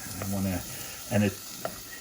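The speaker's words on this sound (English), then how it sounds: "I want to sweat the onions first because garlic in particular can burn really fast" Onions sweating in a pan for butter chicken give a soft, steady sizzle and hiss throughout, with brief voiced sounds rising over it twice.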